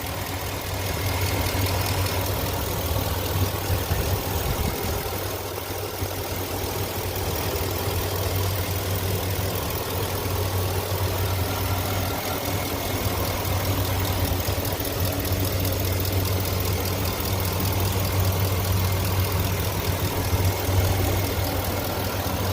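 A heavy truck engine idles steadily for the whole stretch, a loud, continuous low rumble with a faint mechanical clatter and no voices.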